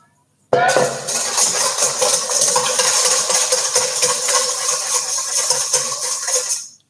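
A big whisk rattles steadily against a bowl while salad dressing is beaten, a continuous metallic clatter that starts abruptly and runs for several seconds before stopping.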